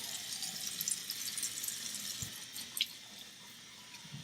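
Running tap water splashing over a six-week-old Aussiedoodle puppy's face at a sink, a steady close wash with a few brief drips and squeaks.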